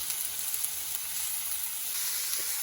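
Bacon and mushrooms sauteing in a pan give a steady, soft sizzle with fine crackling, close and continuous, with no talking over it.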